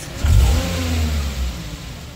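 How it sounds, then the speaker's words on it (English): A car engine cranks and catches, revving briefly before settling into a low, steady idle. "let's start up the engine and listen if the exhaust is knocking on the floor"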